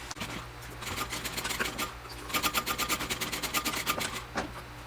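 Sewing machine basting a connector piece onto a Brivet backpack, running in quick pulsing bursts of needle strokes with a low motor hum beneath, close and steady with brief pauses.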